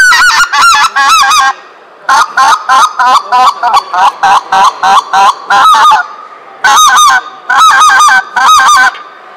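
A goose call imitates a female goose at a hunting exhibition, loud close honks in quick bursts with short pauses between runs; a voice speaks briefly.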